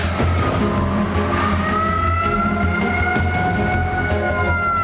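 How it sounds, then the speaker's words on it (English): Tsunami warning sirens in Japan wail steadily over the rumble of a moving car, the tones sliding slowly and continuously with no pause. "the tsunami sirens went off"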